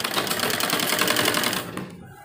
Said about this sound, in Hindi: फिर हम बाद में सिलाई लगाएंगे एक आगे की तरफ